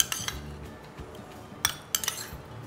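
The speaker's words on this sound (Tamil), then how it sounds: "போட்டு நல்லா அப்படி கலக்கி விட்டுக்கலாம்." A spoon clinks and scrapes against a glass while stirring nannari sherbet mixed with soda and sabja seeds, a few sharp metallic taps and rattles in quick succession, close and fairly quiet.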